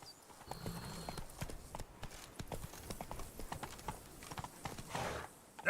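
Roach, a horse in The Witcher 3 Blood and Wine, walks with steady clip-clopping hoofbeats. The footfalls are close and distinct, with faint ambient game sound behind them.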